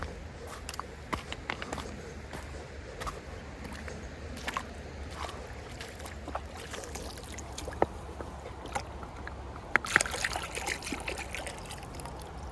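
Finds from a creek being washed by hand in water, with soft trickling and splashing under scattered clicks and knocks of objects, faint and close, with a sharper clatter near the end.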